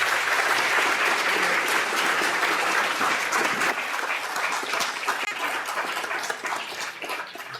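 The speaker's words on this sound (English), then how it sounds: "Give a rousing applause for the 6 people that poured their hearts out today." An audience applauding at a medical grand rounds session, dense sustained clapping from many hands that stays loud and close before gradually thinning toward the end.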